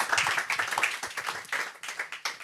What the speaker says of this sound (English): if we could all applaud a very dramatic exit